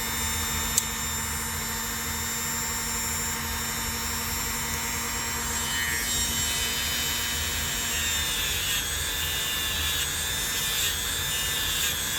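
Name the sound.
brush scrubbing rust off metal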